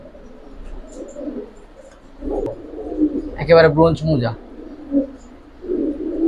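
Giribaz and coloured pigeons, including a feather-footed bird, coo in low repeated murmurs close by, running underneath someone talking over them.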